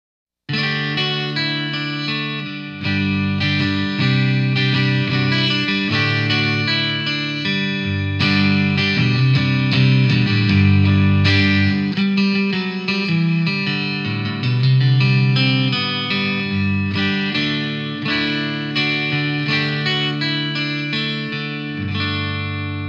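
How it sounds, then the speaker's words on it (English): An acoustic-electric guitar played through an electric guitar amp rings out in continuous strummed chords and melodic notes, loud and steady for over twenty seconds with no talking. "it gets a really great acoustic guitar sound through an electric guitar amp"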